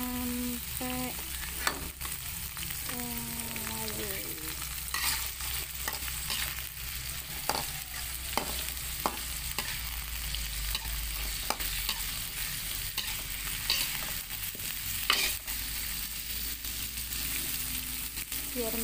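Squid stir-frying in a pan for a black-ink squid and tempeh dish, a steady close sizzle and crackle with occasional utensil clinks and scrapes running continuously without pause.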